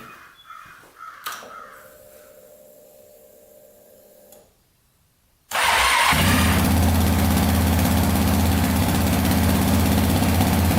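A Yamaha Raptor 700 quad engine cranks briefly, then fires up and settles into a loud, steady close idle that runs on alone; crows caw in the background before it starts.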